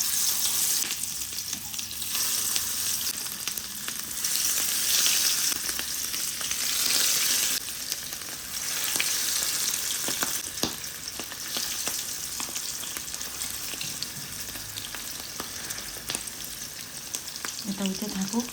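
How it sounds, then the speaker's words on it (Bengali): Onions frying in hot fish oil in a pan for a Bengali home meal: a steady, dense sizzle with bubbling spatter and occasional stirring, continuous and close throughout, without speech. "আপুরা বাইরে এনে পেঁয়াজ দিয়ে দিলাম। এনে মাছের তেলটাও গরম হয়ে গেছে।"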